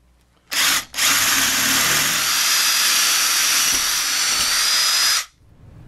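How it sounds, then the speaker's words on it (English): A power drill bores holes through a model railroad layout table for signal wiring, with a short burst, a brief pause, then a long steady loud whine of about four seconds before stopping. "I've got to drill a few holes to bring those wires up"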